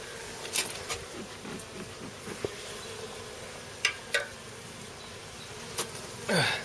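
Honey bees buzzing around an open beehive during a hive inspection, a continuous close hum with individual bees droning past the microphone now and then and light handling noises, no talking.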